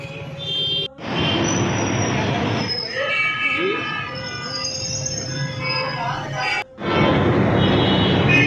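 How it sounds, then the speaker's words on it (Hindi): A metro train rumbles loudly through a station, with wheels squealing and brief screeching tones, the noise dipping twice before surging again. "देख सकते हैं आप, हम मेट्रो स्टेशन में आ चुके हैं"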